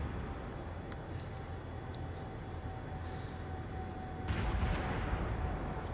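Naval guns firing in the online warship game World of Warships, heard from aboard the battleship New York: a steady rumbling engine and ambient noise, then a heavy, loud boom of a salvo near the end.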